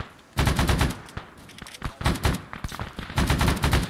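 Bursts of automatic gunfire in the Vietnam War setting of Arma 3 Unsung, loud and close, with rapid repeated volleys and brief pauses between them.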